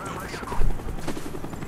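A helicopter's rotor chop in Call of Duty Black Ops drones beneath game sounds and muffled voices, loud and continuous with a rhythmic thudding pulse.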